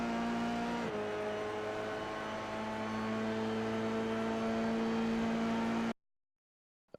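A Dallara F3 race car in the iRacing sim holds a steady engine drone with a sharp shift in pitch early on, then cuts off abruptly into silence near the end, with a small click at the very close.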